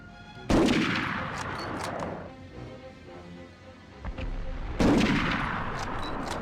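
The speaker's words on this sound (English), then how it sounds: "There's the machine gun." Machine gun fire in the PS1 game Medal of Honor: two loud, sharp bursts of rapid automatic fire, each decaying into a rumbling tail, separated by a quieter stretch of distant battle noise.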